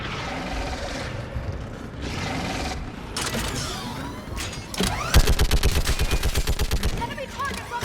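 A mounted gun fires in the sci-fi shooter Mass Effect 3, first scattered shots amid mechanical battle noise, then a loud, steady rapid-fire burst of evenly spaced heavy rounds near the end.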